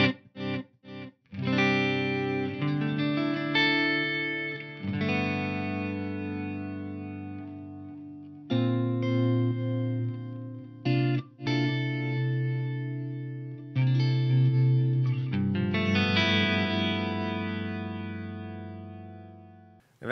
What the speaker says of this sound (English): The mysterious parameter control on this particular delay mode essentially adds like a swell to your delay repeat. So it's like an auto swell mode.